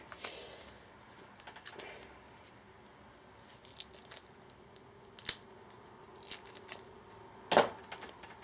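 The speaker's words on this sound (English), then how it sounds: "cut my tape" Scissors snip through tape in a few quick, faint cuts scattered across a quiet room, ending with one sharper, louder snip near the end.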